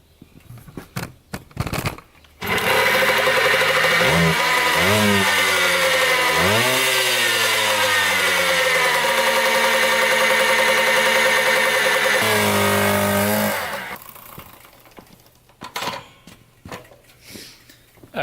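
A motorcycle that stalls at full speed is kicked over: a few sharp kicks and clatter, then the engine catches and runs loud and close, revving and settling at idle for about ten seconds before shutting off into quiet handling noises.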